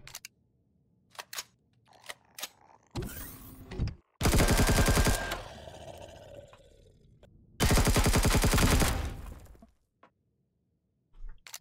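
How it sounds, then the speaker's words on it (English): A pulse rifle fired in Empyrion Galactic Survival, Alpha 11.5: two loud sustained bursts of rapid energy shots, each a few seconds long, separated by a pause, with scattered clicks and quieter effects around them. "I haven't really used the pulse rifle, so let's give this a go."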